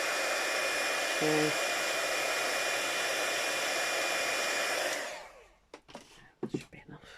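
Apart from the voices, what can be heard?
hair dryer blasting air to dry junk journal page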